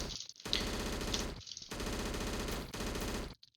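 Rapid automatic gunfire from a Unity-made video game rattles in two long, loud continuous bursts separated by a brief pause, then cuts off abruptly.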